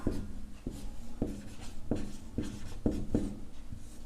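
Pen scratching across paper in a maths lesson, steady close strokes with soft regular taps as each figure is written, with no talk over it.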